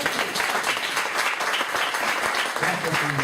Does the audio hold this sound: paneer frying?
no